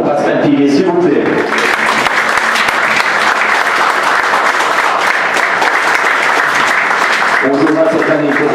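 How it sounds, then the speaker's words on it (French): A football stadium crowd at an FC Vevey United match applauds in memory of Pascal Piguet, a loud continuous roar of clapping, with someone speaking over a public address system at the start and end. "Un grand merci pour vos applaudissements pour Pascal Piguet"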